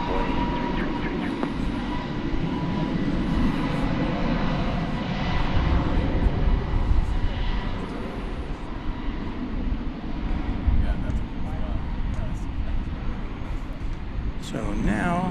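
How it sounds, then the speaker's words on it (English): An airliner takes off from runway 18 left at DFW Airport, producing a sustained broad jet engine roar that swells and holds across the clip while radio chatter and voices talk over it. "RNAV Laren, runway 18 left, clear for takeoff, American 1744"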